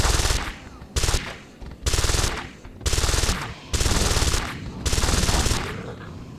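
Automatic weapon fire in Deus Ex: Invisible War, loud close bursts repeating in a steady rhythm of about six long sustained volleys separated by short gaps.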